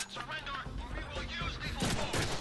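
Gunfire rings out in the Deadpool video game as rapid, overlapping bursts that keep going under the game's noisy action, with voices mixed in.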